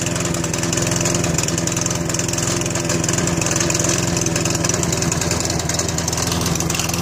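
Gray push lawn mower engine running while smoking, a loud, steady, rough motor drone close up that continues without a break, with no voices over it.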